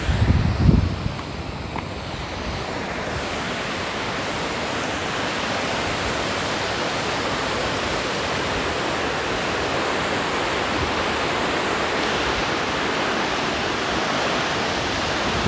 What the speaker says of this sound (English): This is Chinnakanal waterfall.